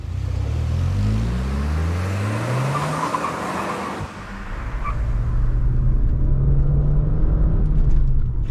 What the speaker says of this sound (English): finally go on my first drive in the very cheap Copart Audi TT